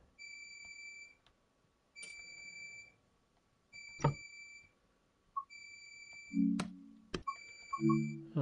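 Cab alarm in Train Sim World 5 on the NEC New York–Trenton route, repeating in regular electronic beeps with short gaps, mixed with scattered clicks and brief tonal chimes, fairly quiet.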